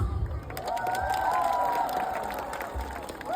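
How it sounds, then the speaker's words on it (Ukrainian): Applause and cheering from a crowd at a children's festival stage after a performer is announced, steady clapping that stays loud and fills the whole moment with no talking over it. "Вітайте гучними оплесками на цій сцені переможець Чорноморських ігор 2023 року."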